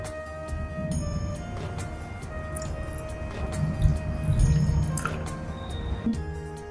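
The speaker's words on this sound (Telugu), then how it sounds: "ఇప్పుడు 1 కప్పు పాలు వేయాలి." A cup of milk is poured into a pot holding a cup of grated jaggery, giving a close, continuous wet trickle and dripping splashes with soft squishy gurgles as the liquid fills the pot.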